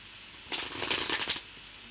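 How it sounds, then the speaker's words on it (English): Tarot cards shuffled by hand, a brief riffling burst of about a second with rapid papery flutters, close and quiet, framed by near silence. "so let me shuffle."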